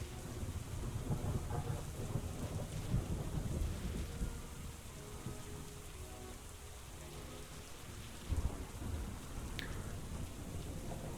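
Rain and thunder from the weather effects of the strategy war game Hex of Steel: steady patter of rainfall with low rumbling thunder rolling underneath, continuous and fairly quiet, with no voices.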